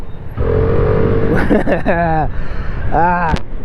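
A Vespa 300 scooter engine on the road with the rider aboard, a steady hum that gives way to two rising revs as the throttle opens, close and fairly loud.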